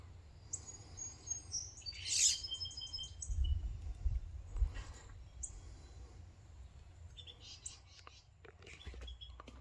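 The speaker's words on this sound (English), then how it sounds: "there's been quite a few birds" Several birds chirp and tweet with short high calls scattered through quiet outdoor ambience, while soft low voices murmur nearby.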